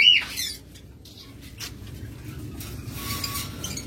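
A cockatiel for sale at a bird seller's gives one short, shrill squawk right at the start. Dull rustling and background noise fill the rest, with no further clear calls.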